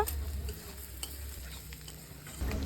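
Onions fry in a pan with ginger, garlic and Kashmiri chili powder, giving a continuous close sizzle with stirring scrapes over a low hum and no talk.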